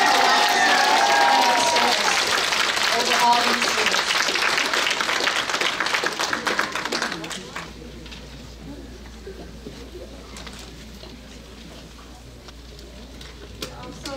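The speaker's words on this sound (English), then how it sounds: "So let's all give Helen a round of applause." An audience at a Lunar New Year celebration in Nassau claps for Helen, with loud, dense applause for about seven seconds that then fades. Someone speaks briefly as it dies away.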